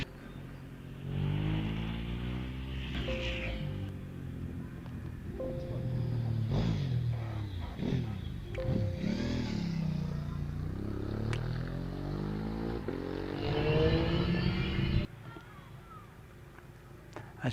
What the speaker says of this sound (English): As we watch the bike carry up over the hill, nice tidy lines